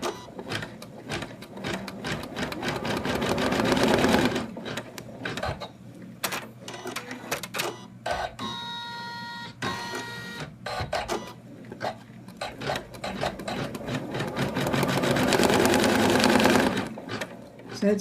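An in-the-hoop embroidery machine stitches a placement line for the arm fabric of a Santa doll, a steady rapid mechanical whirring and clatter that runs throughout with brief stops and a few faint beeps midway.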